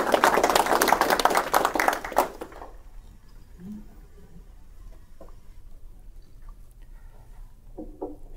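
A crowd in a lecture hall breaks into warm applause, loud and dense clapping for about two seconds, then it tapers into scattered claps and quiet room rustle.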